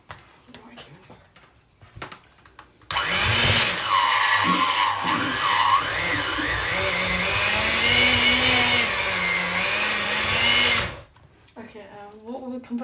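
An electric mixer whirs steadily for about eight seconds as it mixes food for Jamaican rice and beans with curry chicken, a loud close motor drone that starts and cuts off abruptly, with people talking before and after.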